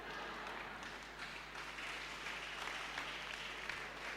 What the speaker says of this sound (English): I think you can clap for me as we're waiting for projection.